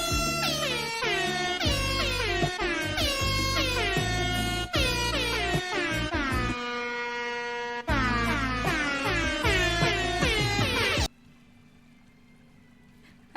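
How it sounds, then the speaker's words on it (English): A loud air horn blares continuously in repeated honking bursts, each stacked with bright harmonics, pausing briefly before resuming and then cutting off to quiet background near the end. "Air horns are never unnecessary."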